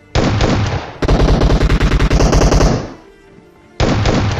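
Gunfire rings out in a mobile shooter video game, loud and close: a single blast, then a fast rattling burst of shots lasting over a second, a short pause, and another blast. No one speaks.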